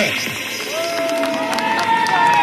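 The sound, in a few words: audience cheering and applauding stuntman David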